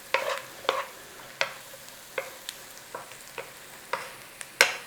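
A utensil stirs bacon hash with dried herbs in a frying pan, making a run of scraping strokes at irregular intervals over a quiet background sizzle, fairly close with no speech.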